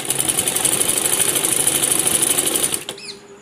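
Sewing machine stitching along a seam while lengthening a salwar hem: a steady, loud, fast mechanical whir running continuously, then stopping abruptly near the end with a brief faint squeak.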